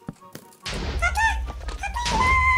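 A wooden door swings open in the video game Minecraft with a single dull thunk, followed by a dense wash of loud game noise.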